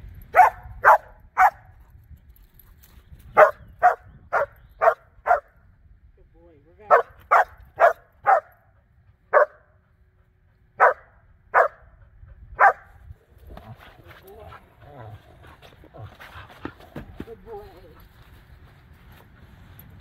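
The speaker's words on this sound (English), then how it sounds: "he was barking at you from this side" Border collie barking during bite training outdoors, sharp loud barks in quick bursts of three to four, repeated about a dozen times, then quieter scuffling and movement toward the end.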